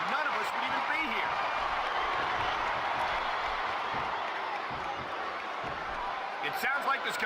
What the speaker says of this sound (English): It sounds like this capacity crowd has something on their minds, Taz.